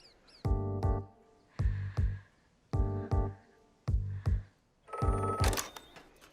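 A telephone bell rings in repeated double bursts, four paired rings with short gaps, loud and close, followed by a brighter, noisier burst at the end, with no talking over it.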